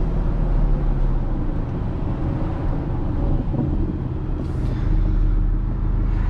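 An Aston Martin DB11 with an AMG V8 under the hood, heard from inside while driving: a dense, steady low engine roar with road noise, fairly loud and continuous, briefly swelling near the end.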